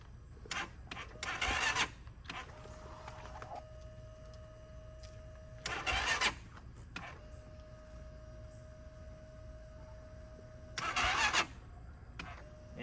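A Hawk DLX motorcycle engine cranks in 10°F cold, three separate short grinding bursts with quiet gaps between, failing to catch, fairly faint and alone.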